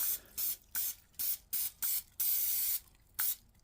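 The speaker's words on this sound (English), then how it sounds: "we're just gonna spray this to kind of coat the pans" Six short bursts of nonstick cooking spray hiss in quick succession onto baking pans, the sixth held longer, then one more brief spray, close and quiet.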